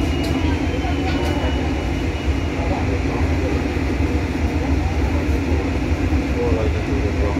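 The Serayu night train departs Cibatu station with a loud, steady rolling rumble and rail hiss throughout, and voices murmur beneath it.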